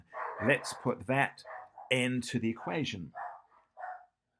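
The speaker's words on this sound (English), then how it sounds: "Sorry if you can hear dogs barking in the background." Dogs bark in the background while a person talks through a maths problem, the barks faint and mixed under the steady speech.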